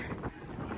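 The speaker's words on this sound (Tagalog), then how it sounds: "Malakas ang hangin." Strong wind buffets the microphone outdoors at an open-air variety show venue, a continuous loud rumbling roar with gusty swells across the short moment, no voices over it.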